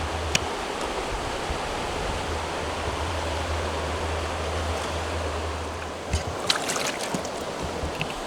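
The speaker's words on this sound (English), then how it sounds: "Look at that nice little waterfall," A small waterfall and river rapid in the wild give a steady, broadband rush of water that is close and loud and lasts throughout, with a few faint knocks near the end.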